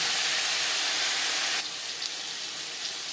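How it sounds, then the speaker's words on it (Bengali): Brinjal pieces fry in hot oil in a pan, giving a steady, loud, airy hiss that eases slightly partway through, with no voices. "তিন চার মিনিট বেগুন ভেজে নেওয়ার পর"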